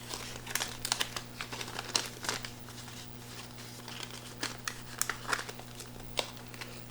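Cash bills stuffed into a paper budget envelope: a close run of papery crinkles, rustles and small taps over a steady low background hum.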